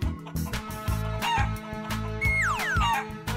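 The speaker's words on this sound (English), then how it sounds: "Chicken." Cartoon chicken sounds, a rhythmic, bouncy music backing with a short cluck and a rising then falling squawk-like call near the middle and end, no speech.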